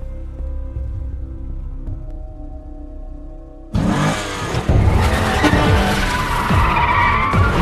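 Cars skid with screeching tires during a chase, a sudden loud burst of squealing rubber and revving engines cutting in after a quieter musical passage and staying harsh and close.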